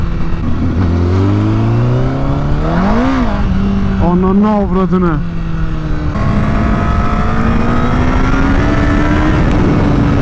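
A Honda CBR1000RR motorcycle accelerates hard in second gear in traffic, its engine howling upward in steep rising sweeps with quick revs, loud and close, while someone briefly speaks over it.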